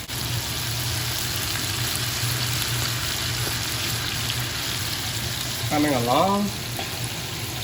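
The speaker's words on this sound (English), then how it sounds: "right now I have to make sure the oil is hot enough for all this calamari in there" Calamari for a Greek-style recipe frying in hot oil, a steady close sizzle and crackle throughout with a brief spoken remark near the end.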